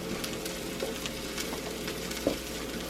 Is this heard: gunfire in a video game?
no